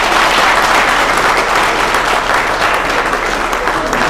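Loud, steady applause from a large audience at a reggae festival in Mali, a dense wash of clapping that holds without a break for about four seconds.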